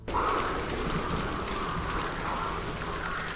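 Heavy rain pouring down in Hunt: Showdown, a dense, steady hiss of drops with no break or voices.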